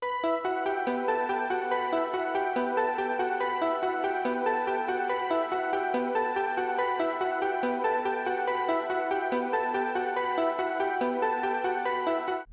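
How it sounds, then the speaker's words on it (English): Dry Nexus synth patterns with no effects, bright layered tones playing a steady repeating melodic sequence with even pulsing notes, continuous and close without any talking. "For them I used Nexus, preset on your screen, so without effects sound like this."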